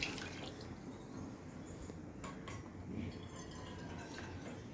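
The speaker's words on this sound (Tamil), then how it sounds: "எவ்வளோ தண்ணி தேவைப்படுமோ அவ்வளோ தண்ணி போட்டுடலாம்" Water poured into a cooking pot of salted dal (lentils) on a simmering stove for a home lunch, a faint, steady trickling and splashing that runs without pause.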